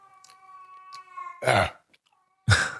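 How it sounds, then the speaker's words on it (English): An agitated cat wailing in a drawn-out, rising cry, followed by two harsh, abrupt bursts of noise that sound close and loud, with short silences between them. "the cat is losing her mind over there"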